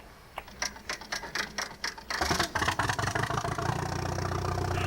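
An old tractor engine idles in Farming Simulator 22 or 25 with a rapid, chugging, low mechanical knock. It starts as a lighter ticking patter, then thickens into a louder, steady rumble.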